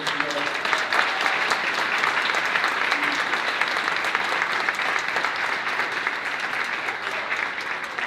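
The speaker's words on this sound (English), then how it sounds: "So I thought we could do a nice round of applause for all the service he does." Round of applause honoring an Air Force lieutenant colonel at a school board of education meeting: dense, even clapping from a roomful of people, sustained at a steady level throughout without breaks.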